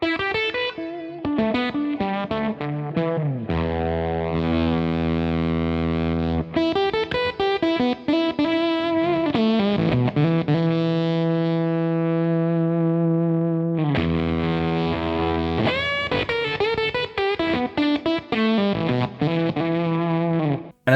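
An electric guitar plays through a Kernom MOHO fuzz pedal, giving spitty, heavily distorted tones. Sustained notes and choppy phrases are played alone and are loud and close.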